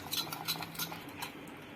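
Cake batter with vanilla essence being whisked by hand in a bowl, giving quick close metallic clinks and scrapes in an uneven, steady rhythm.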